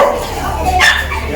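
Dogs bark and yip in short bursts at a busy steam railway station, with crowd noise and chatter around them.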